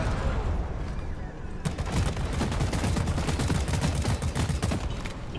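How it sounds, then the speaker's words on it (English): Rapid missile fire in the video game Deep Rock Galactic rattles off in fast repeated bursts, loud and continuous after a brief quieter start, with game noise layered underneath. "I'm hearing lots of missiles."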